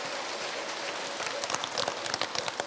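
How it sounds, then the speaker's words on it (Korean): An audience at a Buddhist dharma assembly breaks into dense, continuous applause, a steady wash of many hands clapping close by that grows slightly more uneven toward the end. "박수를 한번 쳐보세요."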